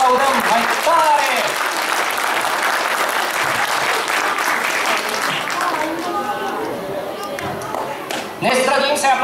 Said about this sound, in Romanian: Ne străduim să aplaudăm mai tare!